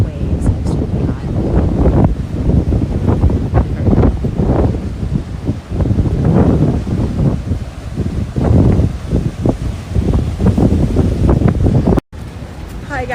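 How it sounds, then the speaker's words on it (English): High open-sea waves crash and roar at Melasti Beach, Bali, with heavy wind buffeting the microphone throughout in a loud, continuous rush. "is open sea, guys, so hence why the waves are extremely high."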